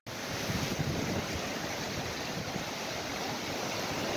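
Surf at Dodamsambong seaside in Seosan, South Chungcheong, a steady broadband wash of waves with wind rumble on the microphone, loud and continuous throughout, no talking.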